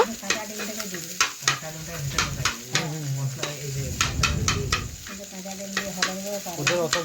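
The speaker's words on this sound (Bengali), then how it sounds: "আমি নাড়াচাড়া করে ডিমটা শুকনো শুকনো ভেজে নেব" Egg sizzles in a pan while a utensil scrapes and stirs with repeated sharp clicks, close and steady.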